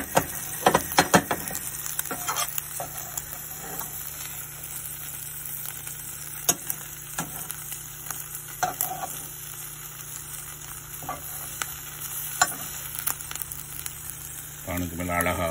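An egg fries in a pan with a steady, fairly quiet sizzle and scattered small crackles and taps throughout, while a person talks at intervals.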